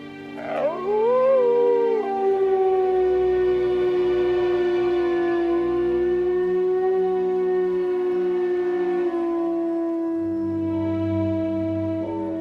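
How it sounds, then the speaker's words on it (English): A lone wolf in a winter setting lets out one long, sustained howl that rises and then holds a steady, plaintive pitch, loud and clear, with no other sounds around it. "He howls, hoping other displaced wolves will answer his call."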